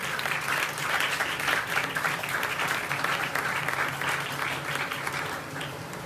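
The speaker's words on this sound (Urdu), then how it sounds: "تالیاں خدا کے لیے بجائیں" Church congregation clapping and applauding at a Pentecost Sunday sermon, a steady dense wash of hands for about six seconds that tapers slightly at the end, with faint murmuring voices underneath.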